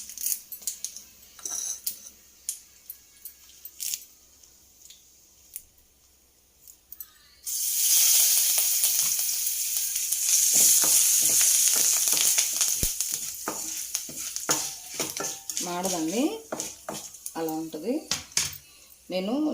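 Quiet clinks of utensils, then a sudden loud hiss and crackle of curry leaves hitting hot oil with asafoetida, sizzling on while metal scrapes and taps.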